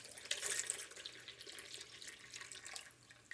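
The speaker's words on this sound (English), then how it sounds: "then we're going to add in 2 cups of water" Water pours steadily into a sourdough starter for an einkorn loaf, a close, continuous splashing trickle that fades slightly toward the end.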